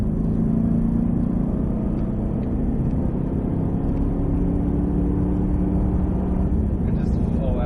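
A Cadillac V-Series car accelerates at full throttle on a track, a loud steady low engine drone heard from inside, with a voice talking over it.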